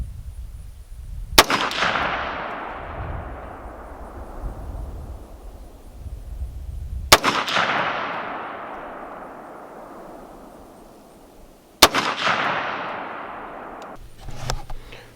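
Three loud rifle shots ring out one at a time at a target range, fired through a Vortex Crossfire II scope, each a sharp crack followed by a long rolling echo, spaced several seconds apart.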